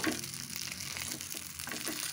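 Kohlrabi fries in oil in a pan just used for frying fish, giving a soft, continuous sizzle with faint crackles and a light scrape or two, fairly quiet and without any voices.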